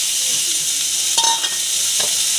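Sliced onions and green chillies hit hot oil in a frying pan: a constant close sizzle, with a couple of brief louder bursts of spattering and stirring near the middle and again shortly after.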